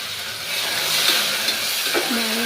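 A spiced mixture is stirred into bagara rice in a hot pot, giving a close hissing sizzle with soft scraping and stirring movements over a couple of seconds.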